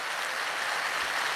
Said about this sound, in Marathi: जोरदार टाळ्या होत्या एकदा स्वतःसाठी